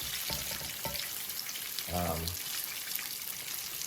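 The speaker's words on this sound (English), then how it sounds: "The oil will splatter." Food crisping to gold in hot, splattering oil gives a steady close sizzle and crackle, with a short voice speaking briefly over it.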